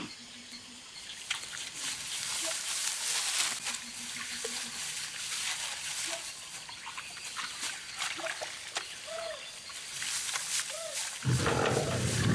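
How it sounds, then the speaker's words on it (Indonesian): Forest tiger roaring in a film, low growls and roars in a wild outdoor setting with trickling water, moderately loud, ending with a heavier burst of sound. "Seekor harimau hutan siap menerkam."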